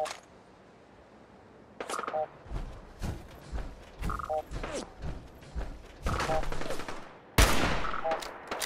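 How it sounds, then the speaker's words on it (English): Gunfire in Fallout 4, with sharp repeated shots and bursts spread across the clip that grow louder toward the end, some overlapping speech. "There's somebody shooting at you, Piper, if you didn't notice that."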